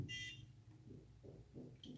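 A NuFace microcurrent facial device gives a short, faint electronic beep, followed by a few soft, low rhythmic pulses in a quiet room, with no one speaking.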